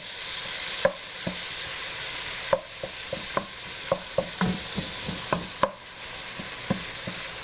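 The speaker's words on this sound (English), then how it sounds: "Stir it up" Food sizzling in a pan seasoned with kosher salt and cayenne as a spoon stirs it, a steady frying hiss broken by irregular scraping and knocking strokes against the pan, fairly close.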